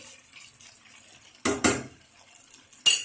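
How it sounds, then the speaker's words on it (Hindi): Carrot halwa with ghee is stirred in a pan. Soft background scraping is broken by a few sharp, loud clanks of a spoon striking the pan, with no talking. "अब हम घी डालकर फिर दोबारा हम इसको उलट पुलट कर हम इसको चला देंगे"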